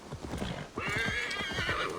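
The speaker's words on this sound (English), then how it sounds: "This is slow moving this horse though, I'll say that." Horse hooves clip-clopping in Assassin's Creed Valhalla as a horse carrying two riders moves slowly, a steady rhythmic plodding, with a whinny rising partway through and sustained over the hoofbeats.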